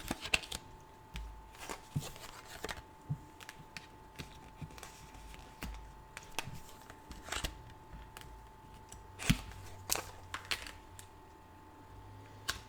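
Tarot cards shuffled by hand during a reading, producing soft riffling flutters and light slaps in repeated bursts, close and quiet, with no voice over them.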